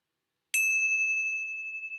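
A single meditation bell struck once at a closing moment, its bright metallic ring starting sharply and sustaining as a steady, slowly fading tone over two seconds, alone in otherwise silent surroundings.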